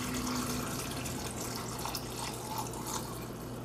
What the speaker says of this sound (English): We'll just add our salt and our water and vinegar solution.